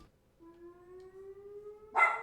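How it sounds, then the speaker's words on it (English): A faint outdoor siren holds a steady tone that rises slowly, heard from a distance in a quiet room, then ends in a short burst of louder, noisier sound. "there's a fucking siren going on out there"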